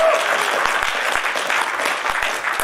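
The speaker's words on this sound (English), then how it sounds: "you give me a huge round of applause" A conference audience gives a short burst of applause in a talk hall, dense, fairly loud clapping that stays steady across the few seconds.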